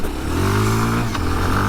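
A Kawasaki KLX230R dirt bike in second gear lifts over a rock on a trail, its engine droning steadily up close with a quick rev and a brief scraping knock partway through.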